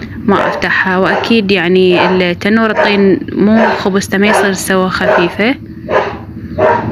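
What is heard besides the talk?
dog barking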